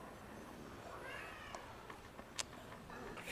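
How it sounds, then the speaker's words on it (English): In a zombie survival game set in a house, a cat meows with a faint, drawn-out call against a noisy background, followed by a few soft clicks and thumps. "Cat is being annoying."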